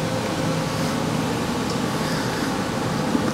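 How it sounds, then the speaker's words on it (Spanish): A centrifuge spins to dry freshly fried muégano dough balls just lifted from vegetable oil, giving a steady, even machine whir and hum that runs loud and unbroken throughout. "le prendes y es como una lavadora. Está secando las bolitas"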